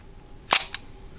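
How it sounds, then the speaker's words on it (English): Single mechanical shutter release of a film single-lens reflex camera, a crisp clack of the mirror swinging up followed by a quieter click as it returns, close and isolated. "The mirror moves aside so that the film behind the lens, the mirror moves, and then the film gets exposed."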